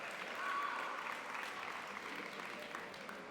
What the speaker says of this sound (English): Ladies and gentlemen, please give another round of applause for your fall all-county, all-conference, and regional